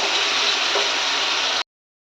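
Potatoes sizzle steadily in a hot pan after a little hot water is poured in, a loud, dense hiss that runs unbroken until it cuts off abruptly.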